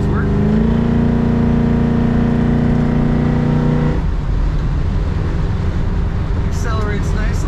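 A 1965 Ford Galaxie 500 convertible pulls away under acceleration, its V8 engine rising in pitch loud and close, then giving way to a broad rushing road and wind roar as the car moves along.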